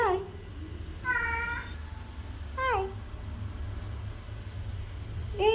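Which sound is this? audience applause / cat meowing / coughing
cat meowing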